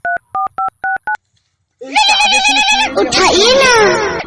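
Telephone keypad dialing, five crisp touch-tone beeps in quick succession, then a pause before loud voices and an animal bleat take over.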